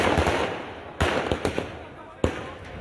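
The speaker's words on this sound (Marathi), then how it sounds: "विजयानंतर कार्यकर्त्यांनी फटाक्यांची आतषबाजी केलेली आहे" Firecrackers go off in sharp separate bangs at an election victory celebration in Sangli, several spaced irregularly with a few smaller pops between them, over a busy outdoor background.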